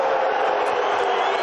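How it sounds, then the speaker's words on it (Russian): A boxing stadium crowd roars and cheers steadily as a fighter enters the ring for a heavyweight bout, a dense, continuous wall of distant voices with no gaps. "Вы слышите гул, вы слышите реакцию зрителей."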